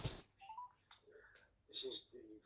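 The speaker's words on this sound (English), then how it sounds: "Ringing up Graeme Kenna." A telephone dialing out, with a series of short, quiet tonal beeps spaced irregularly across a couple of seconds, with faint background sound between them.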